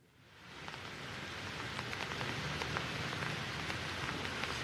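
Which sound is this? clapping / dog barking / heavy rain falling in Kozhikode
heavy rain falling in Kozhikode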